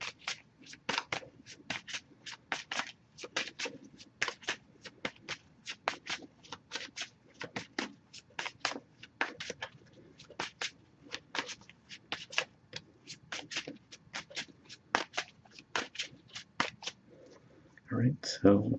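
Oracle cards are shuffled repeatedly in quick riffling flicks, close and crisp, a steady patter of short bursts that briefly gives way to a voice at the end.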